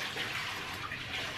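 Water pours steadily for dogs indoors during a house move, a continuous splashing and trickling stream heard up close and alone for a moment.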